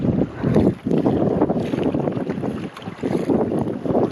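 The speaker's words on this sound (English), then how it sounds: "This is Julian paddling in the waves." A kayak paddles through choppy waves on Lake Superior among the Apostle Islands, with steady rushing water and strong wind buffeting the microphone throughout and no voices.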